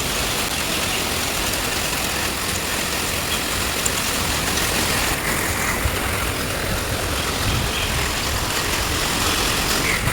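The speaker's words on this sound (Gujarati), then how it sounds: "મુંબઈમાં પણ જોરદાર વરસાદ ચાલુ જ છે કન્ટિન્યુ" Heavy monsoon rain pours down in Mumbai as a steady, dense, close hiss that barely changes over the whole stretch, with no voices.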